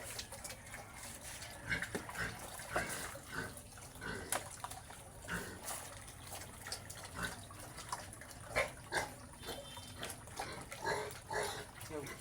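Pigs at feeding time on a small backyard farm, grunting and snuffling close by with irregular sharp clatters and splashes from the feed trough, continuous over several seconds.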